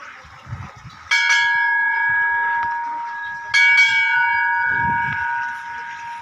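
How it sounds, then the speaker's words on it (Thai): A station bell struck twice, ringing out loud and close with long metallic decay, to announce arriving express train 108 at a Thai railway station; faint voices murmur in the background. "ตีระฆังเพื่อบอกผู้โดยสารนะครับว่ารถกำลังมาแล้วนั่นเองนะฮะ"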